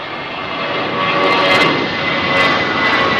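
Jet aircraft departing runway 27R at London Heathrow Airport, a loud broad engine roar that swells slightly and holds steady with no talk.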